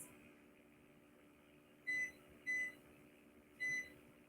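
A kitchen timer gives three short electronic beeps while it is being set, two close together and then one more after a pause, quiet against a faint steady room hum.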